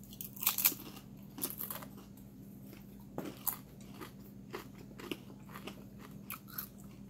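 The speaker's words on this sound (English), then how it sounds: "One chip going down." Someone bites and chews a Paqui Carolina Reaper tortilla chip, making close, sharp crunches that come in irregular clusters and then fade to softer chewing, with no talking.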